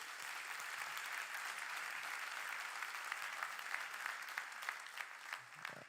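Steady applause from a conference crowd at X Day in Paris, a dense even wash of many hands clapping, distant and moderately quiet, with no break for about six seconds.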